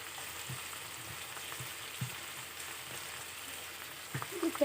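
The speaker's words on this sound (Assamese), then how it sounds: "ভালদৰে বিলাহীখিনি গলি যোৱালৈকে লৰাই ভাজিম" Tomatoes with turmeric and salt sizzle softly as they are stir-fried in a pan, a steady low frying hiss with faint scraping stirs and a few louder clinks near the end.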